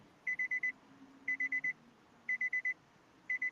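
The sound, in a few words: alarm going off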